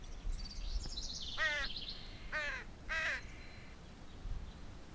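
A crow caws three times in harsh, evenly spaced calls, fairly near against a quiet background.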